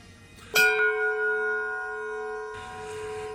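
One strike of a giant bronze bell rings a single sustained note that slowly fades, with faint background noise returning near the end.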